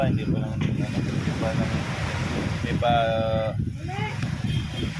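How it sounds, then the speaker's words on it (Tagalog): Rough sea surf at high tide and gusty wind roar steadily, with voices talking faintly underneath throughout, during fishing. "malakas yung current, malakas yung dagat"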